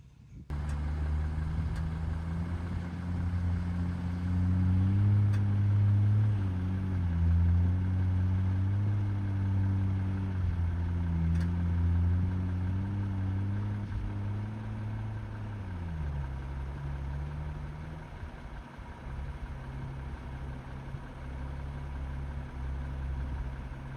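A vehicle engine idles steadily on Wipeout Hill, then revs and drives, its low hum rising and shifting pitch before settling back to a rumble, fairly quiet and heard alone.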